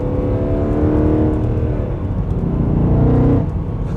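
A Mercedes C63 AMG with a freshly rebuilt engine and automatic transmission accelerates on the road, a loud close engine roar climbing in pitch, easing, then surging again before dropping off near the end.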